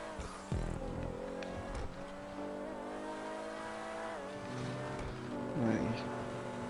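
A car in GTA 5 Online drives with a steady engine drone that rises and falls as it revs, with occasional bumps, while people talk over it.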